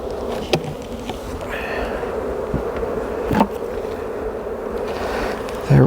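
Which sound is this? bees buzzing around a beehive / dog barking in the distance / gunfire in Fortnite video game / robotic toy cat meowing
bees buzzing around a beehive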